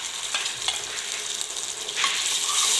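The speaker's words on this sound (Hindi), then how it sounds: "अब इसको भून लेना है। देखिए चटनी भुन गई है" Onion and freshly ground chutney frying in a pan, a continuous close sizzle with spoon strokes stirring through it, getting louder toward the end.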